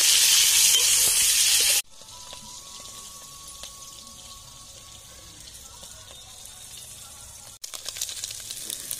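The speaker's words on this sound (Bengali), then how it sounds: "তেল গরম হয়ে গেছে, আমি প্রথমে চিংড়ি মাছগুলো ভেজে নেব।" Small shrimp coated in salt and turmeric hit hot mustard oil in a pan with a loud burst of sizzling, which drops abruptly to a faint crackle and swells again at the end.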